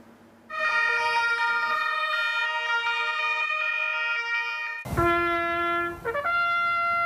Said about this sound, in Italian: Prima le sirene spiegate delle volanti